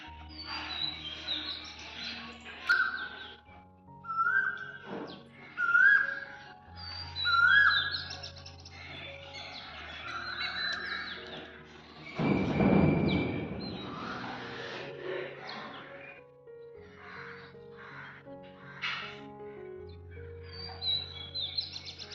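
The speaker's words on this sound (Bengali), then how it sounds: "কি সুন্দর কোকিলের ডাক শোনা যাচ্ছে দেখো" An Asian koel calls repeatedly with clear rising whistled notes, spaced a few seconds apart, alongside other chirps, with a brief rustling thump near the middle.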